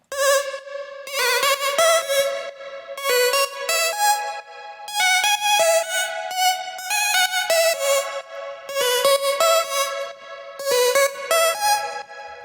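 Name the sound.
synth bass with LFO vibrato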